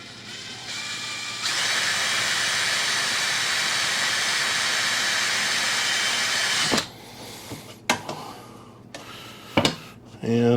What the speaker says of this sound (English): Drill a hole in the end of this.